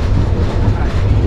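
A train approaching Ibrahimabad railway station near the Jamuna rail bridge gives a loud, steady low rumble of wheels on track, with no breaks.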